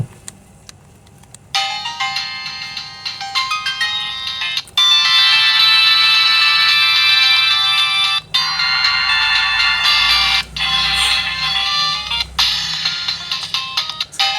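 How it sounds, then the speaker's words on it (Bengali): The built-in ringtone of a Titanic T65 mobile phone plays loud and close as a bright electronic melody, repeating in bursts separated by brief pauses, with no talk. "এই ফোনটির প্রোফাইলে যে রিংটোনের সাউন্ড সেটাই কিন্তু বরাবরের মতো আমরা একটু শুনবো"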